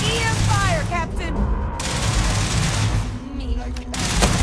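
EM weapon gunfire from the Starfield video game crackles in dense, rapid bursts, loud and close, mixed with booms and overlapping voices calling out during combat.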